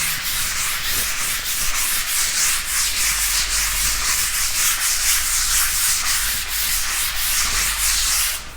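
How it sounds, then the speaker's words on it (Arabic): Sandpaper rubbed by hand across a wall being prepared for water-based paint, a steady close scratching that repeats in quick rhythmic strokes without pause. "باستخدام الصنفرة تبدأ تصنفرها كويس"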